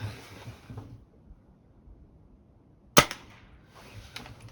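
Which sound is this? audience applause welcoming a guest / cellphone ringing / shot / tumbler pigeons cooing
shot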